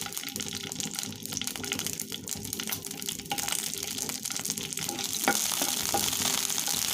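Green chillies fry in a little oil in a pan for a ridge gourd peel chutney, giving a steady, close sizzle that swells slightly toward the end, with no voices.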